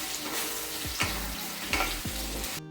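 Onions fry in a pan for Hyderabadi dum aloo, giving a loud, close, steady sizzle. Several scraping stirs cut through it.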